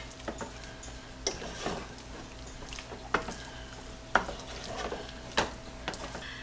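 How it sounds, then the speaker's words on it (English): Beans being blended and stirred together in a pan over medium-low heat: quiet scattered scrapes and taps of a utensil against the pan, spaced irregularly over a faint steady background. "I just blend that together on medium-low heat, and that will get us our beans"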